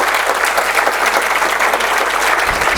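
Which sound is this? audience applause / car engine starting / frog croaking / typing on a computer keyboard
audience applause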